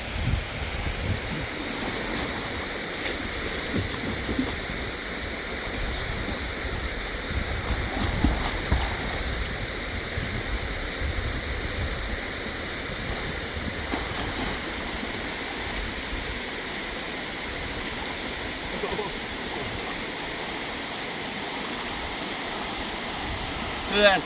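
A forest waterfall roars in a steady, broadband rush that stays even and continuous, close and loud, with no clear voices over it.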